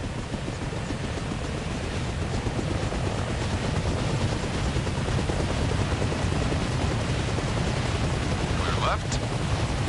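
A military helicopter in the Arma video game spins up for lift-off with a steady, loud, broadband rotor and turbine roar that fills the whole stretch without pause.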